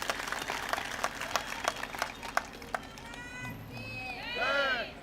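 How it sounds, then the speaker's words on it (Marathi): Audience applause at a public political gathering in Malegaon, heard as a fairly faint, steady wash of clapping with some sharper rhythmic claps, giving way to a voice near the end. "जोरात टाळ्या वाजून त्यांचं आपण अभिनंदन केलं पाहिजे"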